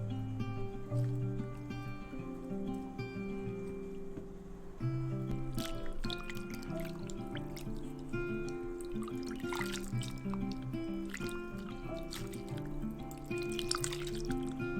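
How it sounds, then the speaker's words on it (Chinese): Wet preserved mustard greens rinsed under water, a soft, steady trickle and drip with light splashing and handling, faint and close, with no talk. "先将梅干菜洗净备用。"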